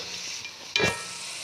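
Chopped onions hitting hot ghee in a pan while a pumpkin dish is cooked: a single quick sizzling burst, as if stirred, against a quiet hiss.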